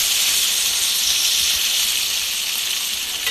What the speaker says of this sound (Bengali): জিরা বাটা, সব কিছু একসাথে ভালো মতো করে এখন কষিয়ে নিতেছি।